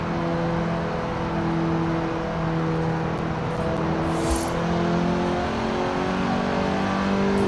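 A Mazda Miata MX-5 in Forza Horizon 4, rear-wheel drive, revs in a continuous loud engine drone whose pitch climbs steadily through the pull, with no talk.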